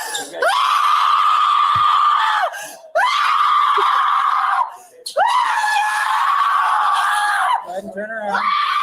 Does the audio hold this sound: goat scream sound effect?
yes